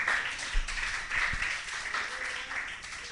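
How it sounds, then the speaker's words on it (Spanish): A church congregation at a Spanish-language service breaks into applause, a moderately faint, continuous patter of many hands clapping in a reverberant room. "Denle un aplauso al que vive."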